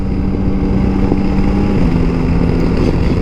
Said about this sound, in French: j'aime beaucoup le bruit du moteur. Bon, j'ai un échappement d'origine